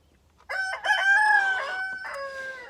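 Farm chickens in a coop: a rooster gives one loud, close crow lasting about two seconds, with a few clucks around it and no talk.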